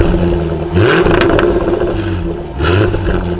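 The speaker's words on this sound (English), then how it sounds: "let's give you a stationary rev of the exhaust, just a quick couple of blips" A Jaguar F-Type R exhaust revs in a couple of quick, loud blips while stationary, the engine rising and falling close by, with a rattly, throaty edge.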